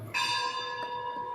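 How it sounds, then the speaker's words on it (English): A bell strikes once and rings on with a bright, sustained metallic tone, heard during a scripture class at ISKCON Vrindavan. "Bell after bell is ringing"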